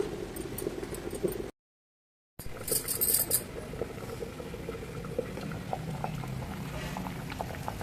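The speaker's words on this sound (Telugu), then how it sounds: "ఇలా రెండు నిమిషాలు అయితే ఉడికిచ్చేసుకుందాం బాగా" A tamarind fish curry with okra simmers in a pot on the stove, giving a steady soft bubbling and faint pattering close up, broken once by a short gap of silence.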